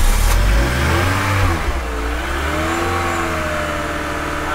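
A car engine fires after a jump start, revving loudly at first with a deep roar, then settling into a steady, rising-and-falling run close by, no voices.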